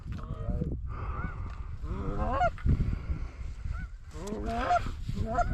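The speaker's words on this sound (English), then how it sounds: "Ducks." Waterfowl call repeatedly during a hunt in Alberta, with a goose-like honking chorus that rises and falls over steady low background noise. Some quiet voices are mixed in.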